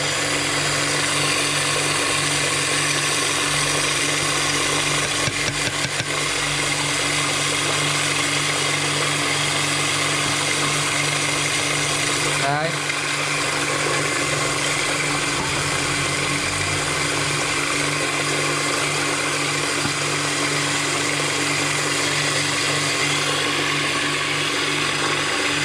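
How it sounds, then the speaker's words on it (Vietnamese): A steady electric grinder whirs continuously at close range grinding grain fishing bait, a constant mechanical drone with a faint click partway through, no voices. "Máy xay nó cũng hơi lâu chút."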